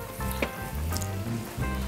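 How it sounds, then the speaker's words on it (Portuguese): Chopped bacon sizzles steadily in a pan, a continuous crackling hiss with small pops throughout, close and fairly loud, with no talking. "Agora, a gente vai aproveitar enquanto está aqui fritando, o bacon já está cortadinho"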